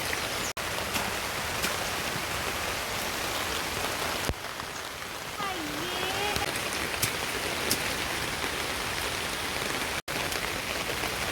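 Steady rain falls by a canal linked to Vembanad lake in Cherthala, a dense continuous hiss of drops on water and surfaces throughout, with a few sharp clicks.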